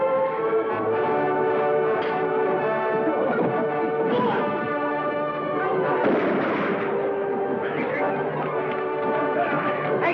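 Gunfire crackles through a radio drama Western fight scene, with sharp shots and crashes mixed under excited shouting and voices over a steady background hum.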